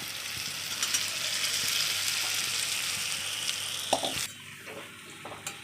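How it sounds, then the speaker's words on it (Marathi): Half a kilo of jackfruit and potatoes go into masala frying in oil for a dry jackfruit bhaji, giving a continuous sizzle with stirring scrapes and a few sharp spoon clatters near the end, no talking. "आता फणस आणि बटाटे आपल्याला याच्यामध्ये टाकून घ्यायचे"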